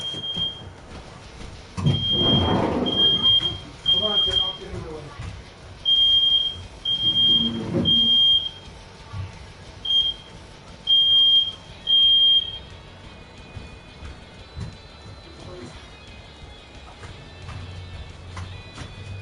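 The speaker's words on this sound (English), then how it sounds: "Smoke alarm went off." A home smoke alarm sounds in repeated bursts of a piercing high beep, loud and nearby, with a few low bumps and household noises between the beeps.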